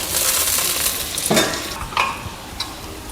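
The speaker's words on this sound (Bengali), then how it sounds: "কয়েকটা ছেঁড়া শুকনো লঙ্কাও আমি এর মধ্যে দিয়ে দিলাম রসুনটা দেখুন বাদামি বাদামি রং ধরে নিয়েছে" Garlic and torn dried red chilies frying in a pan for a Bengali bottle gourd chechki, a steady close sizzle with scraping stirs and a few sharp utensil clicks near the middle.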